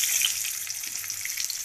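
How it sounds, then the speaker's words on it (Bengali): Potatoes fry in extra oil added to a pan where shankar fish was just fried, giving a steady, close hiss of sizzling with small crackles throughout and no voices. "এবার এর মধ্যে আমরা আরেকটু তেল দিয়ে দিয়েছি, দিয়ে আলুগুলোকে ওই তেলেই ভেজে নেব।"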